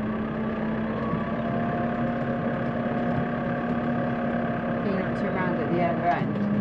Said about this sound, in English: Let's have a slightly lower gear,